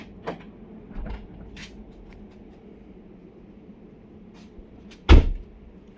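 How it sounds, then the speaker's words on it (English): A 1992 Porsche 911 boot releases with a few soft latch clicks, triggered by a car alarm system, then a single louder clunk near the end over a low background hum. "Now you're going to see the boot open."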